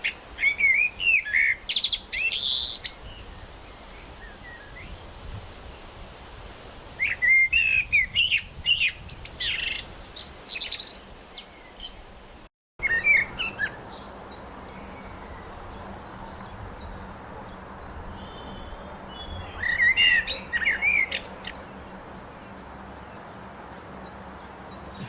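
Blackbirds singing on a Cornish hillside in the evening, with several separate bursts of fluting song at moderate distance, quiet pauses between phrases and a soft steady background hum.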